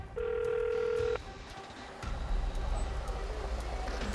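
A phone call goes unanswered as a steady ringback tone sounds for about a second, followed by faint background hum and a low rumble.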